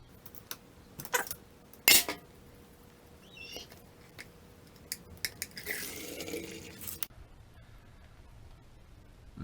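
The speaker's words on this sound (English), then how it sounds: "I'm gonna drain the transmission" Water drains out of the transmission of a Yamaha Blaster engine in faint, uneven trickles and patters, with a few sharper clicks and drips, loudest in a burst near the middle before quieting.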